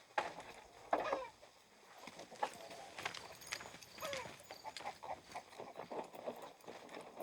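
Horse hooves clip-clop at a walking pace on a frontier ranch in the 1989 western Lonesome Dove, irregular close thuds repeating throughout at moderate volume, with faint voices and a few soft knocks mixed in.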